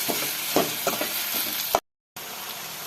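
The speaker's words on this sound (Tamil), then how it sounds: "வெல்லம் சேர்த்து நல்லா மிக்ஸ் பண்ணிக்கலாம்" Jaggery being stirred into a girmit mixture in a pan, with a continuous close sizzle broken by several soft scraping stir strokes, then a brief dead gap before the sizzle resumes; no talk.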